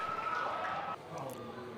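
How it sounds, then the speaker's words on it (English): The final siren sounds at the end of a Tasmanian State League Australian football semi-final between Launceston and Lauderdale, a loud sustained horn-like tone that cuts off after about a second, leaving crowd noise. "There it is. Final siren."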